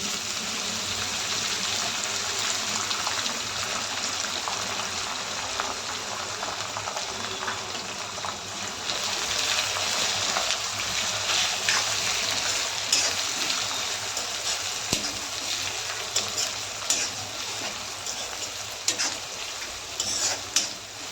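Spring onion greens hitting hot oil already crackling with carom seeds, for a Khandeshi-style roasted brinjal bharit: a steady, close sizzle and fry with stirring scrapes, no voices.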